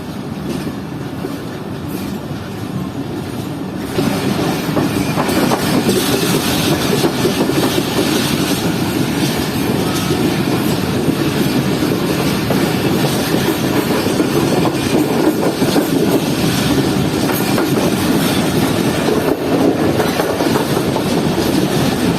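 Shalimar Express passing Padidan junction, a loud, continuous rumble of rolling stock with rhythmic clickety-clack of wheels over rail joints, growing heavier after the first few seconds and holding steady throughout, with no voices.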